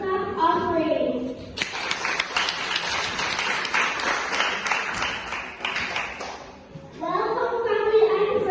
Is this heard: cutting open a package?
no